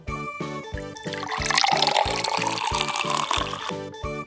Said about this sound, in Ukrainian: Тепер кладемо усе в каструлю і заливаємо водою.